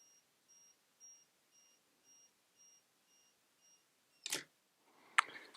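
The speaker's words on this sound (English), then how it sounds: "We have off, and then self-timer mechanism." The self-timer on an Olympus OM10 camera gives a regular series of faint, evenly spaced electronic beeps. Near the end come two sharp, louder mechanical clicks, like the shutter releasing.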